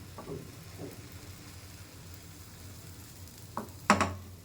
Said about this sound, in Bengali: ফ্রাই প্যান গরম হয়ে গেছে। এখন এই যে ভাজা দিয়ে দিলাম, এইভাবে একটু নাড়িয়ে দিতে হবে একটু সময়।